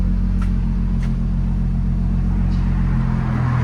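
A 2016 Audi A7 Quattro with a supercharged 3.0L V6, Borla ProXS exhaust, muffler delete and cold air intake, idling with a steady deep low rumble, close and continuous, with no talk.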